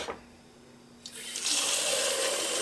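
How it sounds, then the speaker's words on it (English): After a brief clunk, a kitchen pot filler faucet turns on and water gushes steadily into a pot of beans, a close, rising rush of filling water. "add my water. I love my pot filler."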